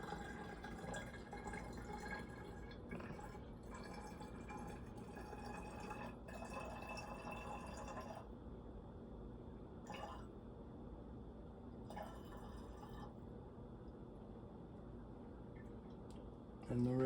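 Water poured into a jug of rum punch made with Bacardi rum, a faint, steady liquid rush with light drips running throughout, ending with a brief louder knock.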